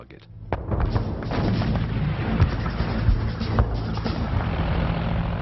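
World War I artillery fire, a dense, rumbling barrage of booms and low thuds rolling continuously, loud and filling, with a few sharper bursts standing out.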